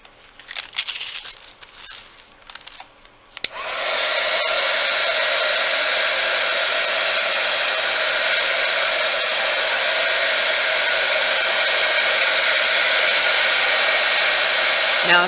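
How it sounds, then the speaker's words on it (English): A heat gun blows a loud, steady whooshing rush onto a polymer clay dragonfly craft. It starts abruptly after a few seconds of quieter handling and crinkling, then holds constant close up. "don't get your heat gun too close, because as you can see, it will wrinkle it up"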